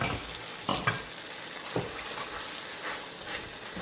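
Herbs cooking in a pan for vegan ramen give a steady, low sizzle, broken by a few sharp stirring scrapes near the start and middle, with no voices.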